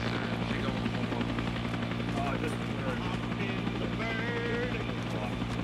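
A military helicopter runs steadily nearby with a constant low rotor and engine drone throughout, while people talk over it.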